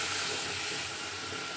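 Onion, fish and green chili frying in oil with salt and turmeric, giving a steady, close sizzling hiss that holds even throughout without pause.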